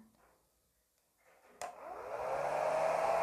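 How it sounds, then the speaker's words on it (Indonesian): A hair dryer switches on at low speed to blow air onto a ping pong ball, starting with a click after quiet moments, then a steady rising whoosh and motor whine that settles into a continuous close hum. "Kalau ini saya kasih udara dari hair dryer ini dengan kecepatan yang kecil"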